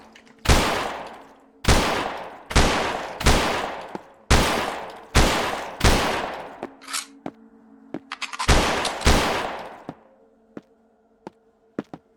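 Gunshots in the game Holstin ring out as a series of loud, sharp blasts, roughly eight shots spaced about a second apart with a short pause midway, followed by scattered faint clicks and taps as things go quiet.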